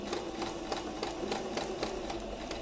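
A sewing machine stitches a zigzag seam in fabric with a rapid, steady mechanical whirring and regular needle thumps, heard close and continuous.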